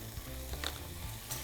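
Chicken gizzards fry with spices in a pan as they are stirred, a close crackling sizzle with a few scraping utensil strokes over a short moment.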